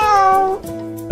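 A single drawn-out cat meow, clear and close, with a tonal wavering cry that drops off near the end before a brief click.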